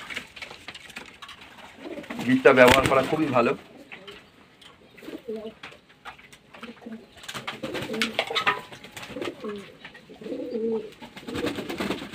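Pigeons coo and flutter close by while eating grit, low bursts of cooing and movement at intervals, with someone talking over parts of it.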